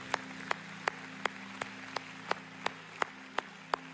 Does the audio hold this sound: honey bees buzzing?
no